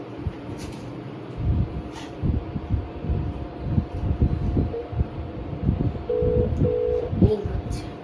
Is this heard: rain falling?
no